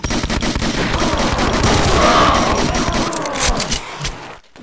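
Rapid, loud pistol shots fire in a steady repeating stream from Brutal DOOM: Project Brutality, with metallic clatter underneath, before cutting off sharply at the end.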